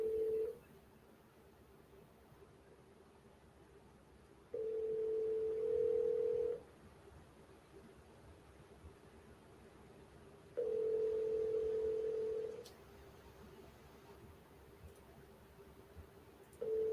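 Telephone call tones on a line: a steady ringback tone sounding in two-second bursts separated by longer pauses, clear and alone over a faint background hiss.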